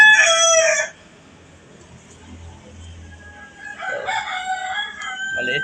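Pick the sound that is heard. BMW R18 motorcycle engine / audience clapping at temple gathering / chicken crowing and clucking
chicken crowing and clucking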